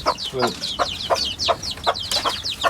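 Native hens cluck and chatter on a rooftop while pecking at freshly cut grass, a lively series of short close calls repeating about twice a second.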